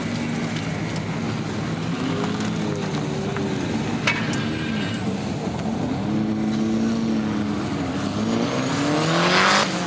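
A Ford Escort Cosworth rally car, the first one ever built, pulls away from the line at a motorsport show, its engine note rising steadily and loudly over a continuous background din.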